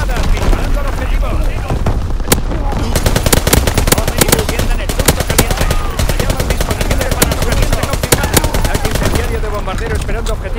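Call of Duty: WWII multiplayer gunfire from an artillery strike, with dense, loud rapid automatic bursts and booming impacts pounding continuously and overlapping one another.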